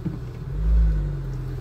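A car engine warms up and turns over on a scorching August afternoon at Passo del Bracco, idling with a low rumble that swells briefly to a louder rev and settles back.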